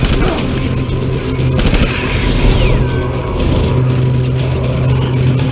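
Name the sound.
gunfire in Death Stranding video game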